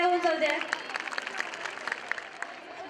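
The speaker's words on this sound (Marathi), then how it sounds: "त्यांच्यासाठी जोरदार टाळ्या होऊन जाऊ द्या." Audience at a school gathering applauds a children's dance performance, steady, dense clapping at moderate distance over a room full of people, starting under the fading end of an announcer's voice.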